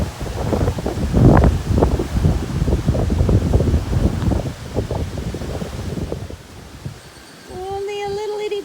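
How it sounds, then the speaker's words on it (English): Strong wind roars through Minnesota woods, a steady loud gusting rush with some rustle, easing near the end where faint birdsong comes through over a softer breeze. "And the wind is still whooping."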